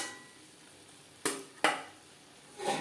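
Spices for a rohu fish curry stirred in a pan with a little water, two sharp scraping strokes then a softer third over a faint simmering hiss.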